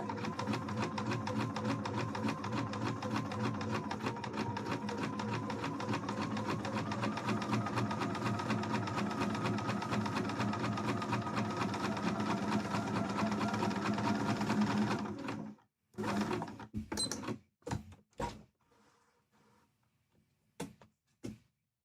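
A sewing machine sews cosplay pieces in one long, steady, close rattling run of about fifteen seconds, then halts, followed by a series of sharp clicks and knocks from handling.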